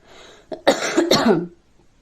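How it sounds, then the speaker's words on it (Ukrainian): A woman coughs in a short cluster of harsh, wet bursts at close range, preceded by a breathy inhale, then silence. "я до сих пір кашлюю"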